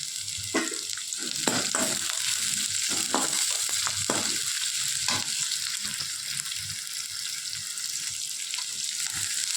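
Sliced onions and green chillies with urad dal fry in oil in a pan, a steady loud sizzle throughout with occasional stirring clicks and scrapes near the start.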